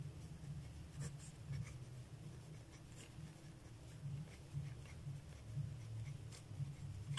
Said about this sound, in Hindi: यहाँ पे मैं नोट्स लिख दिया हूँ